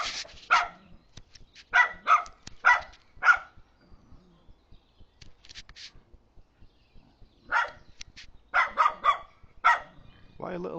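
Small dog barking at a pig farm at night, sharp yaps in quick bursts of two to four, fairly near and loud, with quiet gaps between volleys and a whimper-like sound at the end.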